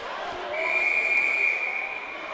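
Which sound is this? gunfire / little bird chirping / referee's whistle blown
referee's whistle blown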